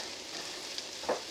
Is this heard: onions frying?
yes